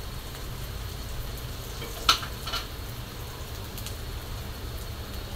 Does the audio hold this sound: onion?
yes